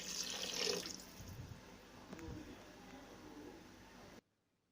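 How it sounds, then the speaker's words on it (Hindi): Water is poured from a glass into a pressure cooker of arvi gosht (taro root and meat curry) to make the broth, a steady splashing pour for about four seconds in a home kitchen, fairly close and alone, ending abruptly. "अब हम डालेंगे जी पानी, तकरीबन 1 गिलास पानी डालें जितना आपने शोरबा रखना है।"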